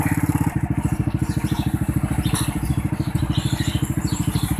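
A saleng, a motorcycle with a sidecar loaded with chicken nesting baskets and brooms and ridden by an 84-year-old man, chugs along a road with a steady, rapid, close engine putter that holds an even rhythm throughout.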